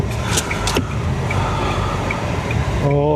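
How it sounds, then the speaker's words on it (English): Car passing by at Lanzarote airport, a steady close rolling road rumble that swells gently and fades near the end, with brief clicks at the start and a short tonal hum at the close. "Oh, a car coming."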